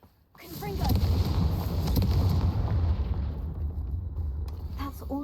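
A Confringo blasting spell bursts in the Hogwarts Legacy video game, a sharp onset swelling into a loud, sustained rumbling roar that slowly eases over several seconds.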